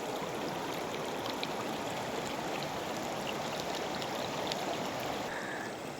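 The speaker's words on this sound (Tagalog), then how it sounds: "Sumasampa dyan ang tubig." Steady broadband rush of flowing water, continuous and fairly loud throughout, like a river running close by with no voices; the current is deep and strong enough to sweep things away.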